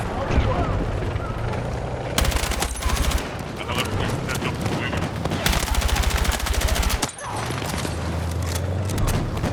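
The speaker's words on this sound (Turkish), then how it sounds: "silah niye tek tek sıkıyorum?" Rapid automatic gunfire in Battlefield 6 comes in several long, loud bursts, with distant shots and explosions in between and a player talking over the combat.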